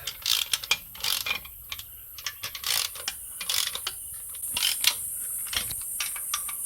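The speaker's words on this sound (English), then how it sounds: "now that all the nuts are equally tightened, it's time to torque them." A ratchet wrench clicks in quick repeated bursts while tightening cylinder head nuts on a 1977 Land Rover 109, sharp close metallic ticking in short strokes with brief pauses.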